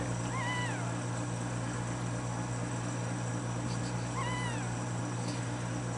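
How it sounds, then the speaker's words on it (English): A cat and her newborn kittens mew from under a bed, a pair of thin rising-falling cries near the start and another pair near the end, faint over a steady hum. "And here Mama Kitty was having babies under her bed."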